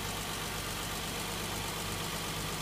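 The 3.5-litre VQ35DE V6 of a 2014 Nissan Maxima idles steadily in a short, even, close-up hum with a faint ticking rhythm.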